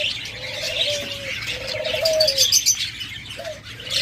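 Caged Japanese budgerigars and lovebirds in breeding pairs, short chirps and warbling calls repeating close by with a soft cooing tone and a faint flutter of wings.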